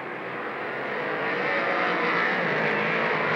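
Modified race cars roar around Lernerville Speedway in a dense, continuous engine drone that swells slightly louder as the pack sweeps past, with no voices over it.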